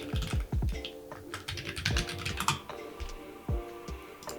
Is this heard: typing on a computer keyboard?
yes